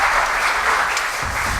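An audience claps loudly and continuously for a few seconds, dense applause filling the room without pause.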